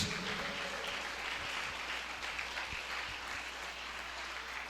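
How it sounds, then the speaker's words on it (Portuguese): A church congregation claps steadily through a sermon, the applause dense and continuous at a moderate distance, with low murmurs and a few sharper claps standing out. "Aplaude a palavra de Deus."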